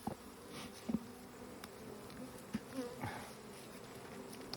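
Honeybees buzzing around an open hive during an inspection, a continuous close insect drone with scattered louder passes and faint handling knocks.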